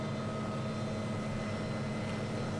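A helicopter in the video game Garry's Mod flies overhead with a steady, loud rotor-and-engine drone that fills the whole span without pause.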